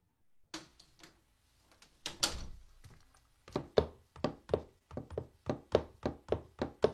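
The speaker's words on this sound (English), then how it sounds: "Door, Jeeves." Knocking on a door, first a few scattered soft thuds and a louder bump, then a run of about a dozen sharp, evenly spaced raps, close and clear with no talking.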